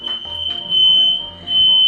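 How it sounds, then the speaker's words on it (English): Several smoke detectors go off during Thanksgiving cooking, a loud, shrill alarm tone pulsing in strong bursts with brief dips between, nearly alone with little talk. "Okay, we know the smoke detectors work."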